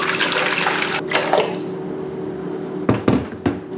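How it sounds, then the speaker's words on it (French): Water being poured for bread dough, a splashing pour that stops after about a second and a half, followed by a few separate drips and splashes near the end, close by. "je vais d'abord commencer par verser les 15 centilitres d'eau"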